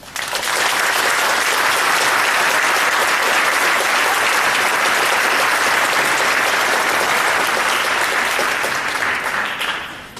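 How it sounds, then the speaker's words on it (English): An audience at an eighth grade awards ceremony gives staff members a long, loud, steady round of applause that tapers off near the end. "how about a huge round of applause for our staff members"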